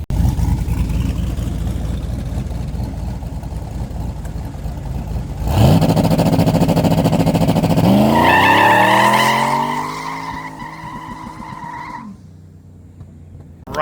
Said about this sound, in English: But now it's time to try the trans brake launch.